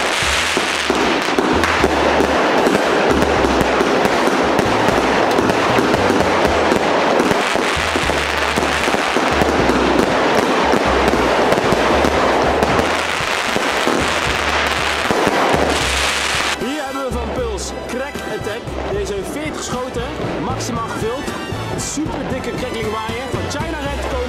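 Dutch consumer fireworks for King's Day, including a China Red item, crackle and pop in a dense, continuous barrage that runs loud from start to finish. It eases slightly toward the end, with voices and chatter mixed in.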